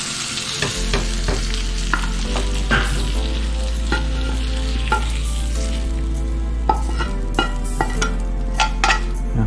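Pork chops pan-frying in oil for Danish apple pork, giving a steady close sizzle with repeated clinks and scrapes of a utensil against the pan and a low background hum, with no voices.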